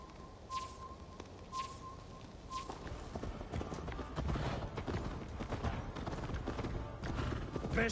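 Horse hooves clip-clopping in the Viking-era video game Assassin's Creed Valhalla, a steady run of hoofbeats that grows denser and louder through the clip, with a few brief high chirps near the start and no talking.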